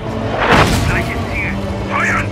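A World War II Sherman tank cannon fires in a battle against a German Tiger: one sharp, heavy boom with a crack, followed by ringing and rumble while shouted voices carry over it.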